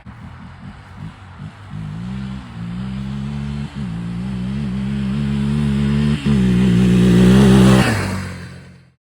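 Yamaha Raptor 700 ATV with its spark arrestor removed, launching hard: the engine blips and idles briefly, then revs up through the gears in a loud, climbing roar before backing off, close up and with no talking.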